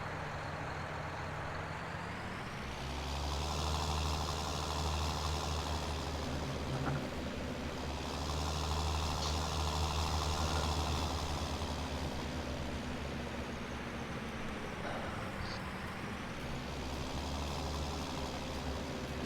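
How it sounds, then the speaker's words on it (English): An old John Deere tractor engine idles steadily with a deep, even low rumble that swells slightly and eases back twice, close and continuous, with no voices. "Sounds how a John Deere should sound from this era."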